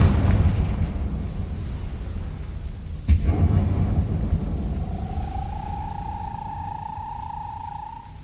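In Hogwarts Legacy a Confringo blasting spell goes off with a single sharp, loud crack, followed by a rumbling roar that fades slowly into a rising, whistling hum.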